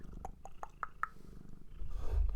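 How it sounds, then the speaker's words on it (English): A cat purring close by as a low, soft rumble that grows toward the end, with a few short tonal chirps early on. "The sound of cat purr is the best."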